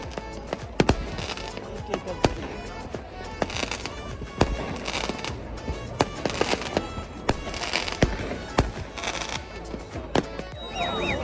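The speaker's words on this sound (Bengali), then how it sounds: "ওরা এই যে ওদের সেলিব্রেশন শুরু করে দিয়েছে আতসবাজি ফুটাচ্ছে" New Year fireworks going off in Switzerland just after midnight: repeated sharp bangs and crackling bursts, some near and loud, others distant, scattered irregularly over a noisy outdoor background.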